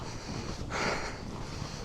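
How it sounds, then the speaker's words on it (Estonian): Cold wind at the Tartu snow park tubing hill buffets the microphone in a steady roaring rush, swelling briefly in a stronger gust. "siis ei tule sulle see kuramuse külm tuul näkku"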